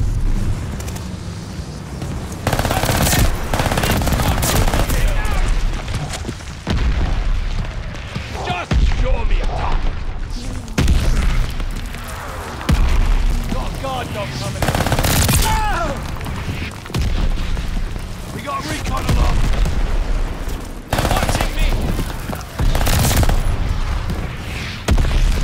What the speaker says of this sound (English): Allied mortar fire coming.